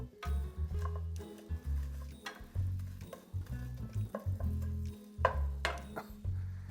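Broken pasta noodles stirred in melted butter in a pan, giving soft repeated scraping and ticking clicks in an irregular rhythm, close and moderately loud with a faint sizzle beneath.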